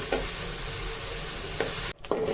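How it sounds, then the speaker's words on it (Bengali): Fish frying in hot oil in a pot: a loud, close, continuous sizzle and crackle with a brief break near the end before the frying resumes. "তেল গরম হয়ে গেলে তার ভিতরে মাছগুলো দিয়ে দিব"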